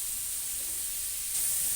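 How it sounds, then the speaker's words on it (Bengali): Prawns fry in hot oil with salt and turmeric, giving a steady, close sizzling hiss that swells slightly louder toward the end. "এবার চিংড়ি মাছগুলো এই নুন হলুদে ভেজে নেব।"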